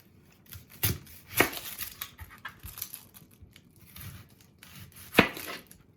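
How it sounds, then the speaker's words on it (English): A knife finely chops red onion on a board, giving a few sharp, scattered cuts and taps over soft handling noise, close and fairly quiet. "And then I need 1/4 of a cup of finely chopped red onion"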